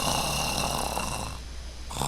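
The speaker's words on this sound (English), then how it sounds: "I heard our father snoring come from the back room." A father snores in a back room in a visual novel game, a steady, rough, droning snore under a constant background hum, with no talk.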